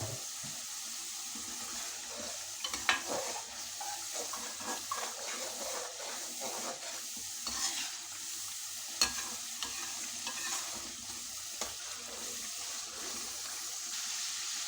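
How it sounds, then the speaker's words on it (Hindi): Half a tablespoon of garlic-ginger paste sizzling in a pan of masala for black pepper chicken, with a spoon stirring and scraping in irregular clinks over a constant soft frying hiss. "अब हम इसमें हाफ टेबल स्पून लहसुन अदरक का पेस्ट शामिल करेंगे और इसे भी अच्छी तरह भून लेंगे"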